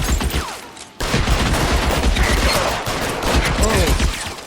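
Gunfire in L.A. Noire, a loud continuous barrage of overlapping shots after a brief quieter lead-in, with a voice speaking over part of it.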